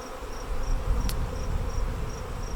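A swarm of mixed honey bees buzzes outdoors under overcast skies, a continuous low drone close by with a steady hum and a faint regular chirp running over it.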